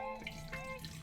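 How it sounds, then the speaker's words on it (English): Turmeric tea poured through a strainer, giving a soft, steady trickle of liquid for about a second, faint and close. "Now this is the straining part."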